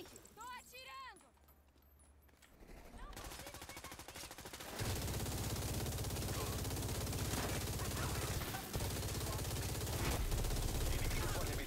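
Rapid, sustained automatic gunfire from The Division 2 roars loudly after a quieter opening with voices, the bursts running nearly nonstop to the end as a player speaks.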